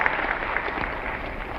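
A brief burst of clapping from an audience at a film awards ceremony, dense and fairly steady across a moment.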